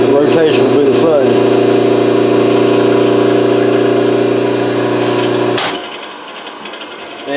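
A three-phase motor on a simple rotary phase converter spins at steady speed, giving a loud, constant hum with a high whine over it. It winds down abruptly near the end, leaving quieter ringing and background noise.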